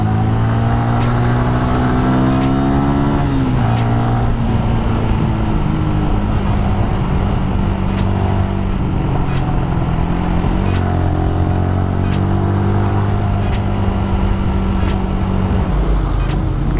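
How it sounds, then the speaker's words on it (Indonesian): Congested traffic idles and creeps through an intersection with no traffic lights, with car and motorcycle engines droning and revving in a dense, continuous wash of noise and occasional ticking clicks. "Gila macet ini guys."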